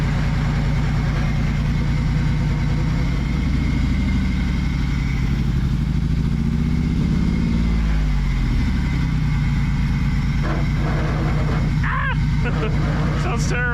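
A Ford Shogun engine running rough and misfiring, a loud, steady low rumbling drone with an uneven throb, close by throughout.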